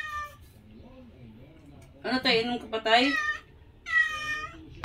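A pregnant cat meows several times up close, drawn-out, wavering cries in bursts, mixed with a person's conversational speech in the room.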